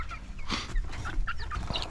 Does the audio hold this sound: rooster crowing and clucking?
yes